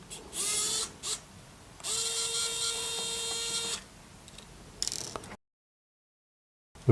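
A Kaiweets ES20 electric screwdriver whirs in several short and longer bursts close up, its pitch rising as the motor spins, with a pause between runs before silence falls.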